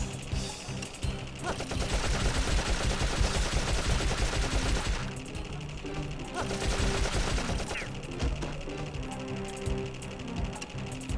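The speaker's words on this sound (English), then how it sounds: "there is something kind of fun about just using a machine gun" Sustained rapid machine-gun fire in the Dark Cloud video game, loud and continuous, with a brief lull around the middle before the fire resumes, layered over dense game sound effects.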